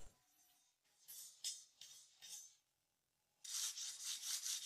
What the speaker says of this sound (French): Je lime les extrémités pour les lisser et ôter les bavures.